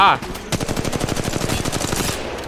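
Gunfire in a ranked online shooter video game: a rapid, evenly spaced string of loud shots lasting about two seconds, preceded by a brief voice-like sound at the start.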